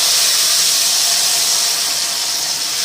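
Hot oil tempering poured into simmering tamarind gravy for pulikoottu gives a loud, close, steady sizzling hiss that lasts the whole moment.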